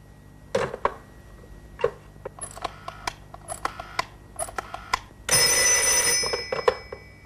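An old-fashioned telephone rings in a 1930s spy-drama office, sounding with sharp clicks and rattles before a loud, sustained bright bell burst near the end, with no talking.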